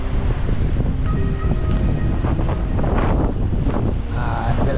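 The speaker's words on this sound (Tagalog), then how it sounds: "napakalakas ang alon, malakas ang hangin ngayon" Loud, constant wind buffeting the microphone over the roar of surf, with faint tonal hums and distant indistinct sounds beneath.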